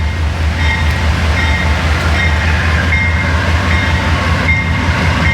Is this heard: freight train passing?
yes